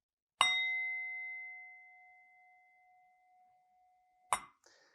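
A single bell is struck and rings out with a long, clear, slowly fading tone, then a second strike follows near the end.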